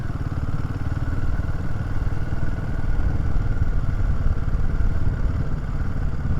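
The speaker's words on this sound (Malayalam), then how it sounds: "ഇരുപതിന് താഴെ ലൈറ്റായിട്ട് നോക്ക് ചെയ്യുന്നുണ്ട് സെക്കൻഡ് ഗിയറിൽ." Royal Enfield Himalayan 450 running in second gear below 20, a continuous close engine drone with a rapid pulsing texture and faint light knocking throughout.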